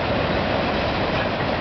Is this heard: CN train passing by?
yes